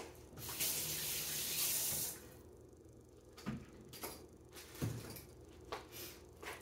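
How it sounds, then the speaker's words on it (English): A kitchen sink sprayer rinses vacuum blender parts, heard as a close, hissing burst of running water followed by a few hollow clunks and knocks of plastic pieces being handled. "I could lather it up with soap, and then just rinse it out a lot under the sprayer"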